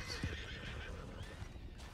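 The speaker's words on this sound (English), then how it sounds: "Oh, I didn't see these horses." Horses in the video game Red Dead Redemption 2 give a short neigh near the start, followed by soft hoof clip-clops and faint ambient noise, fairly quiet overall.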